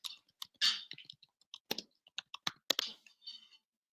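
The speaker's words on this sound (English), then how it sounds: "I'm typing. I'm searching." Someone types quietly on a computer keyboard nearby, with sparse irregular clicks and small bursts of keystrokes and no talking.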